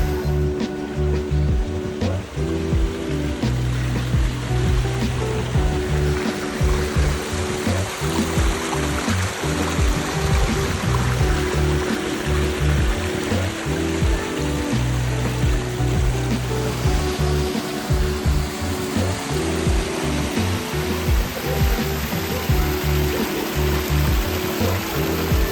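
A backyard waterfall spills steadily into a pond in Southern California, producing a continuous, close rushing and splashing wash with no break.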